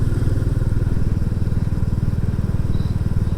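A Royal Enfield Classic 350 climbs a country lane with a loud, close, steady single-cylinder thump that pulses evenly throughout.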